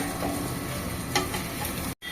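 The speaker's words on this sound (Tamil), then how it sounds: "எண்ணெய் காஞ்சோன்னா வெங்காயத்தை போட்டு வணக்கிடுவோம்." Onions sizzle in hot oil with a steady crackle, punctuated by a few scraping stirs of a spoon.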